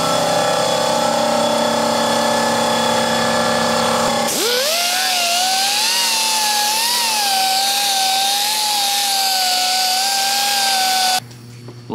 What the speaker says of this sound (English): I just want to grind the welds now.